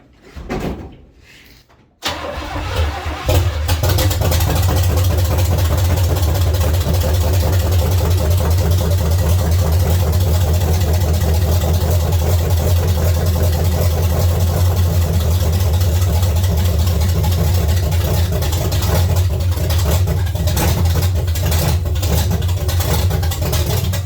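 A 1970 Chevrolet C10 truck's engine with adjusted timing cranks briefly, then catches and settles into a loud, steady, slightly uneven idle close by.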